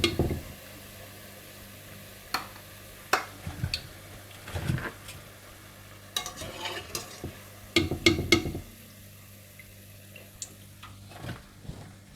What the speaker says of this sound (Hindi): इसी तरह से आप बाकी पकौड़े भी फ्राई करके निकाल लीजिएगा।